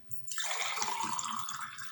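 Homemade cherry compote is poured into a glass, a short close liquid stream that starts suddenly and then runs steadily with a bright bubbling gurgle.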